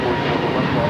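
Boeing 737-800 jet airliner at LAX, a steady, dense engine roar filling the whole second at a constant loud level, with voices mixed in underneath.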